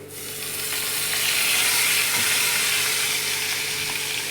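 Soybean masala paste hits a hot pan for a dry soybean sabzi, giving off a loud, steady sizzle that swells in the first half-second and holds broad and continuous, with faint stirring scrapes underneath.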